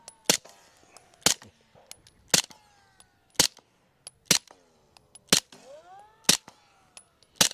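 Suppressed handgun shots fire outdoors at a safe spot, about nine sharp, evenly spaced reports over several seconds, each a crisp crack with brief ringing, no talk between them.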